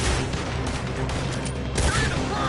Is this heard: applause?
no